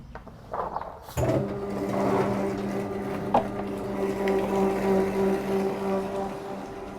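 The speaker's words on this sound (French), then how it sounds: "Il va découper en morceaux, petits morceaux pour pouvoir passer à la machine après. Là il va passer au broyeur maintenant." A motorized grinder crushes pieces of kava root, starting abruptly after a brief clatter and then running as a steady, loud mechanical drone with a humming tone and faint rattles throughout.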